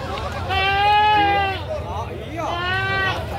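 Bleating goats at a busy Tulungagung livestock market, two drawn-out harmonic calls about a second apart, moderately loud over a murmur of crowd noise.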